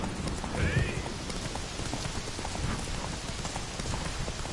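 Horse hooves galloping through rain in the Witcher 3 video game, a steady patter of rain over the hoof beats with a louder thump and a brief high whinny near the start.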